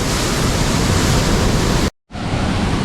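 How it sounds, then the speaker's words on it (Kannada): Waterfall tumbling down three rock steps at a secret falls on the Tamini Ghat in the Sahyadri hills, a loud continuous broadband roar close by, cut by a brief silent gap before resuming. "ಭರತ್ ಈ ವಾಟರ್ಫಾಲ್ ನೋಡಿ ಅವಾಗೇ ನಾನು ಜಂಪ್ ಮಾಡ್ತೀನಿ ಅಂತ ಡಿಸೈಡ್ ಮಾಡಿಬಿಟ್ಟವನೆ."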